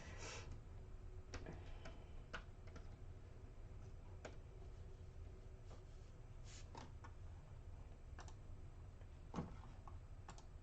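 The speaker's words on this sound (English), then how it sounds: "Let me type in real quick here" Quiet scattered keystrokes on a computer keyboard, soft irregular clicks over a low steady room hum, no voices.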